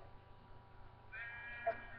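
A sheep bleats in the Minecraft video game, a short synthetic bleat rising over a low steady background hum near the end.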